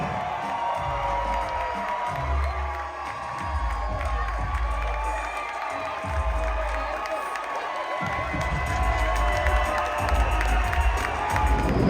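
A large crowd cheers and shouts at the Katie Taylor vs Amanda Serrano weigh-in for the undisputed super lightweight championship, a steady roar of voices with whoops rising and falling across the whole stretch.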